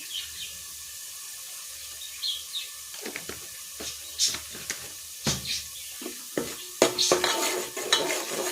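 Malvani roasted masala is sautéed in a pan for a spicy chicken rassa, with soft sizzling and intermittent scraping and stirring clatter of a spoon against the pan, close by and without talk.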